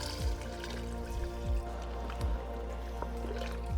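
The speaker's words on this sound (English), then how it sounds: "Let's add some water and do a taste test." Water trickles and drips into a pot of soya veg biryani, soft liquid gurgles and repeated dripping plops at low volume.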